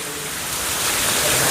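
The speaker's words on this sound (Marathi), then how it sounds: "आणि बाहेर काय पाऊस काय ना थांबूचं नाव नाही घेत आहे" Heavy, steady rain pours outside a village home in the Konkan countryside, a continuous broadband hiss that holds even and close throughout, swelling slightly louder toward the end with no voices.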